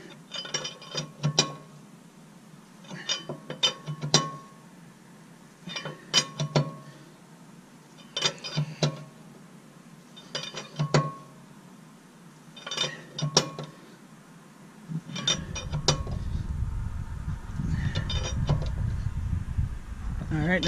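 A nut is ratcheted onto a new wheel stud, pulling the stud into its seat: repeated short bursts of sharp ratchet clicks with pauses between, followed by a steady low rumbling noise near the end.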